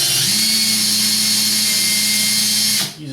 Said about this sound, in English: gonna use it on the power drill and let the brass come out